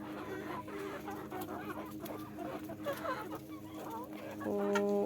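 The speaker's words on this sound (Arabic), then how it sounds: "وهذه الفرخة بلدي." A local-breed hen clucks close by in a farmyard with a run of irregular clucks, then a louder, more sustained call near the end.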